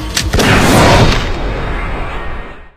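A single loud gunshot in an anime zombie scene, a sharp crack, then a long rumbling echo that slowly fades.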